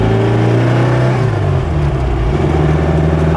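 A Porsche 550 Spyder replica's engine revs up and holds a deep, throaty drone, the pitch rising and settling as it idles loudly nearby.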